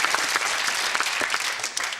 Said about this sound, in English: Round of applause for John, yes!